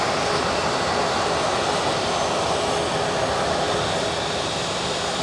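An airliner departing Edinburgh Airport for Newark roars steadily with loud, continuous jet engine noise that stays broad and even throughout, with no voices.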